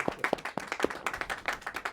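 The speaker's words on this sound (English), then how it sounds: "Round of applause, I think." Guests applaud at the formal installation of the High Sheriff of Merseyside, a fairly quiet, steady patter of individual hand claps from a modest gathering, with no voices.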